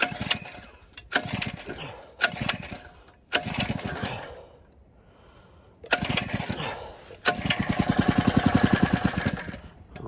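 A Harbor Freight Predator engine driving a pump is pull-started on choke with several sharp cranking bursts and stalls, then catches and runs in a steady, loud, chugging idle.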